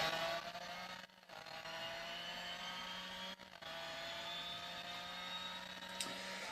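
The Renault R.S. 01 race car engine in Real Racing 3 hums as a steady, high-pitched tone, broken by two brief dips like quick gear changes, then a small blip near the end.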